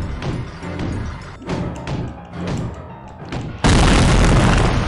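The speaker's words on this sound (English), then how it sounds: "My gosh, why was the explosion so big?" An explosion in the video game Psychonauts lands as a run of deep booming thuds, then ends in a sudden, loud, sustained roar of noise.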